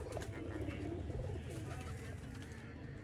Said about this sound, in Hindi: मोहसन भाई ये प्योर तरीन हालत के मिस्से जालदार कबूतर हैं।